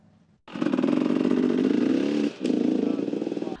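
Enduro sport motorcycle engine running loud and close, a steady buzzing drone that breaks off briefly and then resumes at full volume.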